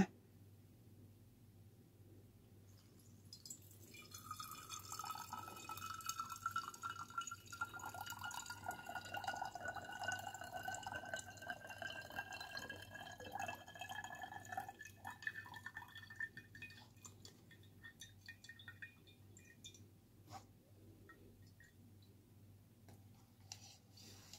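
Green tea for kombucha trickles and drips through a fine tea filter bag into a glass vessel, a soft steady liquid patter that begins after a few quiet seconds, holds for about twelve seconds, then thins to faint scattered drops.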